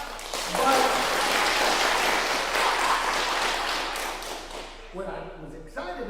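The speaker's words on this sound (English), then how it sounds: "You all should clap now" Audience clapping fills a lecture hall for several seconds, loud and dense, then tapers off as a voice begins talking over the fading applause.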